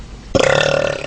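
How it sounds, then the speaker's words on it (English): A woman lets out a single loud, close burp that starts abruptly and holds as a sustained throaty rumble, with no talking over it. "I will burp for her."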